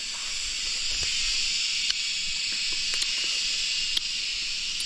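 Cicadas drone in a forest during a wild-fruit outing, a loud steady high buzzing that holds throughout with a few faint sharp clicks at intervals.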